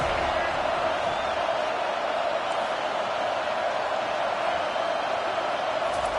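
A home football crowd roars steadily through a third-down defensive stand, a dense, continuous wall of cheering and noise heard from within the stadium with no breaks.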